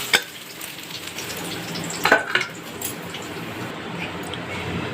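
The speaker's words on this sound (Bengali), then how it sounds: "মাছটাকে খুব একটা শক্ত করে ভাজবো না" Fish fries in a pan for a fish curry with a steady close sizzle. Brief clinks and scrapes of stirring or turning cut through it near the start and middle.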